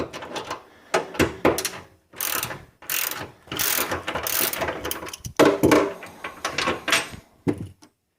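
Ratchet wrench backing out 15 mm bolts from a brace on a Pontiac GTO, with bursts of rapid clicking ratchet strokes separated by short pauses, close and fairly loud, with no talking.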